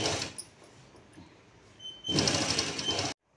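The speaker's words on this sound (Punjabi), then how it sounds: "ਆਪਾਂ ਬੁਕਰਮ ਦੇ ਨਾਲ ਨਾਲ ਹੀ ਸਲਾਈ ਲਗਾਵਾਂਗੇ" A sewing machine stitches along buckram while making a salwar, with a short whirring run at the start, a quiet gap, then a louder, steady burst of stitching up close.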